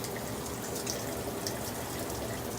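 Water runs steadily from a sink faucet while a water heater tank is flushed of sediment and grit, a continuous close hiss of flow with no talking.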